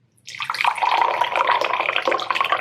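Miracle water poured into a glass, a sudden close splashing stream that starts after a brief silence and keeps running steadily with gurgling bubbles to the end.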